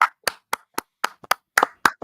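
A livestream audience at a game of the year awards claps in sharp, evenly spaced slaps, about nine crisp claps in two seconds, close and clear with no talk.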